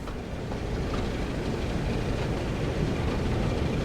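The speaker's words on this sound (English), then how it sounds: "I am driving a train." A train runs steadily along the tracks with a continuous low rumble and rolling noise, close and even throughout, with no talk.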